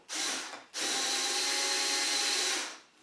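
A Ryobi 4V cordless screwdriver drives a 2.5 inch screw into wood, its steady motor whine running loud and close in two bursts, a short one and then a longer sustained run, with no talk.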